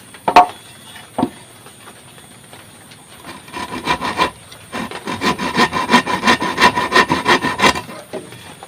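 A couple of sharp knocks, then a hand saw cuts wood for a door frame in steady back-and-forth strokes, rasping rhythmically and growing louder up close, outdoors under overcast skies.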